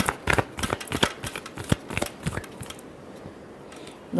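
Tarot cards being shuffled by hand, a series of crisp riffling flicks and slaps in quick irregular bursts, close up and fairly soft.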